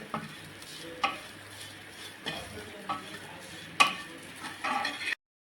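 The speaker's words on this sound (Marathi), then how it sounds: "आता आपल्याला ना याच्यामध्ये थोडंसं चवीनुसार ना मीठ घालून घ्यायचं आहे आणि आपण एखाद मिनिट आणखीन हा सास परतून घेणार आहोत" Spicy dried Bombay duck (bombil) thecha is stirred in a pan, with soft frying sizzle under repeated sharp scrapes and clinks of a spoon against the pan.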